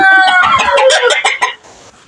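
Close, loud clucking and squawking from laying hens in a quick burst of calls, then a short stretch of quieter background noise. No one speaks.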